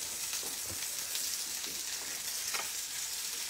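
Continuous crackling sizzle of prosciutto frying in hot olive oil, close and steady, with occasional louder pops.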